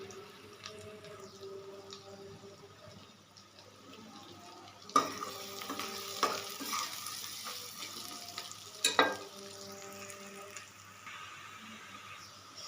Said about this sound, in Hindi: प्याज हमारा ऑलमोस्ट फ्राई हो चुका है